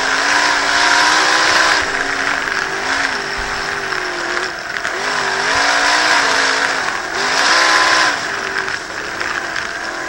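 Several stock race cars running an 8 to 10 lap heat, engines droning loud and close with rising and falling pitch as they accelerate and lift, no talk.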